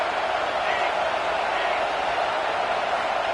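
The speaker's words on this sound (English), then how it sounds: "Listen to this crowd just shaking the girders of this place" A packed football stadium crowd roars in a steady, dense wall of noise, loud and sustained without letup throughout.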